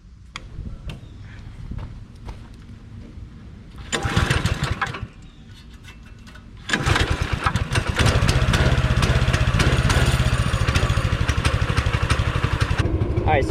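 A go-kart engine, fresh from a carburetor cleaning, is pull-started with a few short sputters and bursts, then catches and runs steadily at a loud, close, buzzing idle.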